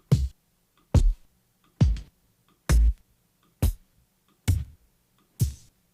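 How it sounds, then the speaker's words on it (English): Vinyl-sampled kick drums, one-shots with noisy character, play in sequence: seven separate deep thumps spaced roughly a second apart over a faint crackly hum, each decaying quickly, alone. "There are 84 kicks."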